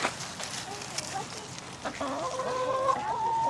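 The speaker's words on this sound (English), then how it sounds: "Aries, there's your special chicken right there." A backyard chicken clucks and warbles near the coop, with tonal calls rising toward the end, while people talk nearby.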